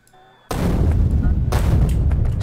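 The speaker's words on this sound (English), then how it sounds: "So I'm going to use grenades for as much as I can, hopefully without destroying anything." Grenade blasts tear through a stand of trees in the factory-building game Factorio, a sudden loud burst that becomes a sustained rumbling barrage, with a second sharp detonation about a second later.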